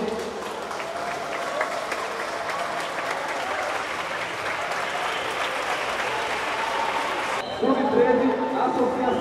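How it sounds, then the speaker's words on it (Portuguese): Indoor audience at a youth futsal tournament claps for teams as they are introduced, a steady wash of applause with an announcer's voice over it, the hall sound shifting near the end. "Vamos aplaudir."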